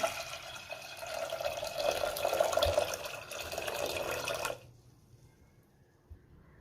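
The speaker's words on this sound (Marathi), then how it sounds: "आता आपण त्यामध्ये पाणी घालूया।" Water pours from a vessel onto washed dal in a pressure cooker, a continuous close splashing stream that rises and then cuts off, leaving near silence with a faint clink at the end.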